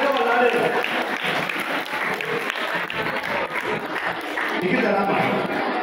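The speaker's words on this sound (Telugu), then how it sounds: "ఫాస్ట్ గా మీరు క్లాప్ కొట్టాలి" A crowd at a New Year's Eve night celebration claps rapidly and continuously, a dense steady patter of applause filling the space for several seconds.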